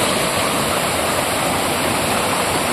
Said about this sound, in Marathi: एकदम नितळ आणि स्वच्छ पाणी तिथे वाहतो